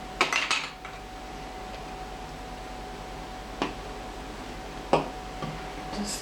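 A utensil clinks against a bowl while vanilla extract is stirred into sponge cake mixture: a quick burst of taps at the start, then a few isolated knocks over a quiet room hum.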